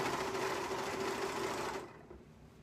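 A sewing machine runs a straight seam on a mini skirt, a fast, steady, close whirring buzz that stops abruptly near the end, leaving quiet room tone.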